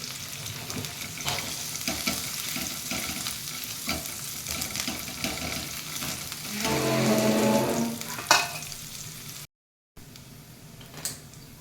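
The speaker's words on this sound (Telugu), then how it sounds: "చిన్నులపాయి అల్లం వేగిందండి" Chopped onions and ginger sizzling and frying in a pan for pumpkin soup, with a steady hiss that swells louder partway through and is broken by a few sharp stirring knocks.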